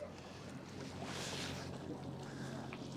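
A motor boat tender pulls up to collect passengers from a yacht off Mallorca, its engine a low steady hum under wind and water noise, close and fairly quiet.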